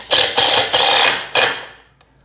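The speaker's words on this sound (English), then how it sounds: "just gonna run 2 screws through the side to keep this thing from wobbling around." Four loud bursts of a power driver sinking 1.5 inch screws into scrap wood, each lasting a few tenths of a second with brief gaps between, close by and with no talk.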